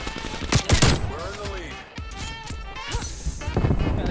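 Gunfire in the video game Call of Duty Black Ops Cold War: sharp bursts of shots with clattering impacts and game effects, loud and close, layered over in-game sounds.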